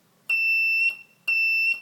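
An electronic buzzer in a transistor buzzer circuit sounds twice, each a steady, shrill, high-pitched tone lasting just over half a second, separated by a short pause.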